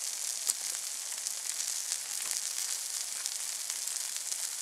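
Food sizzles steadily over a wood campfire barbecue in the Australian bush, a constant bright frying hiss with small pops scattered through it and no talking.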